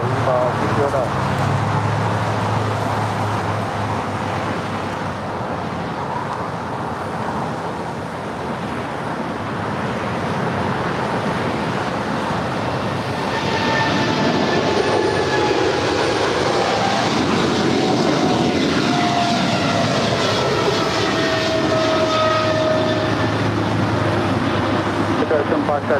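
Qatar Cargo airplane taking off from runway 25 left at LAX, a broad, loud, steady jet roar that swells midway and carries faint rising whines, heard in the distance with voices talking over it.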